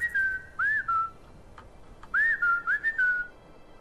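Whistling in the Skyrim video game, a few short rising and falling whistled phrases in two bursts, clear and close with no talk over them.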